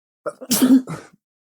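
A single sharp sneeze, close and loud, with a quick breathy intake before the burst and a short tail after.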